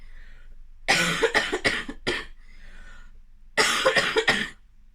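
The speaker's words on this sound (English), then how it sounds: "The cough is brilliant." A short fit of several harsh coughs, then a pause and another burst of three or four coughs, close and loud.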